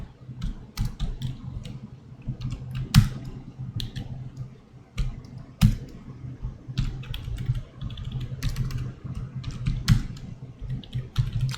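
Code is typed on a computer keyboard in irregular bursts of crisp key clicks with short pauses and a few harder strikes, close up over a faint background hum, with no talking.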